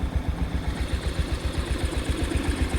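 A 1970 tractor engine idles close by with a steady, even chugging pulse of low thumps, about six per second, and no voices.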